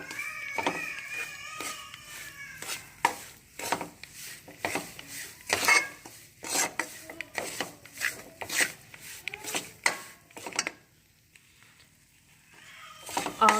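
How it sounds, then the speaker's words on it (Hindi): A spatula scrapes and stirs besan and ghee in a pan over low heat for besan halwa, in a series of irregular close scraping and rubbing strokes, then a brief quiet pause before stirring resumes. "बेसन और घी को अच्छी तरह मिक्स करेंगे।"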